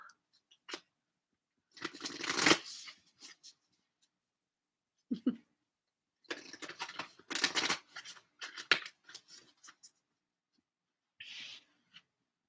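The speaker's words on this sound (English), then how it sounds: "I'm going to pick some cards from my Moonology Oracle." Moonology oracle cards being shuffled, several short papery riffles and slides in separate bursts with quiet gaps between them, close and fairly soft, no talking.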